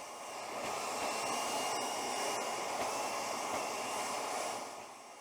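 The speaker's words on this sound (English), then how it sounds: "turn on the mulcher, feed the sheep wool into the vacuum, and let it fill up the wall cavity" A mulcher feeding sheep wool insulation through a vacuum hose into a wall cavity roars with a steady, loud airy whoosh that ramps up quickly, holds for several seconds and then tapers off near the end.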